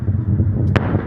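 Fireworks exploding at a distance during an outdoor nighttime celebration, a steady rumbling din broken by one sharper crackling pop.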